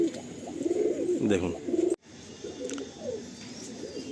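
Giribaj pigeons coo repeatedly in a loft, the soft rolling calls close and steady, with a brief voice speaking partway through and a short dropout in the middle.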